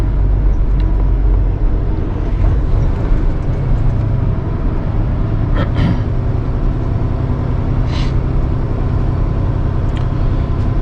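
A truck rolls around a Dollar General warehouse lot with a continuous low engine rumble and road noise, fairly loud and steady, with a couple of brief hissing bursts partway through.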